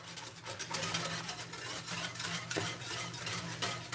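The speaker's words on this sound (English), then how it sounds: "the first tablespoon is whisked on in" Steady metallic whisking and scraping as an ingredient is worked into a creamy sundried tomato pasta sauce in a pan, quiet rhythmic strokes repeating with no talk.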